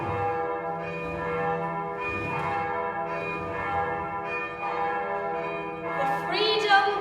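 A large church bell, the Freedom Bell, tolls overhead with rich sustained ringing overtones, several strikes blending into a steady shimmering hum, loud and close with a bright final stroke.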